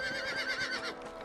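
A horse in the video game Red Dead Redemption gives a single short, close whinny with a rising and falling pitch that fades out in just over a second.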